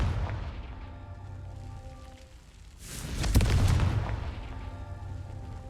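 Confringo blasting spell in Hogwarts Legacy sets off a heavy booming explosion midway, a sharp crack rising into a rumbling roar over a steady low ambient drone, with no talk.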